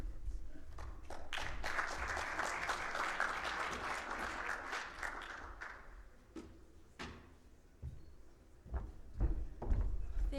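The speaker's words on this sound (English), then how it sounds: "Thank you for the applause." A conference audience in a sports analytics competition room gives a speaker a full round of applause that swells, holds for several seconds, then fades into a few scattered claps and knocks.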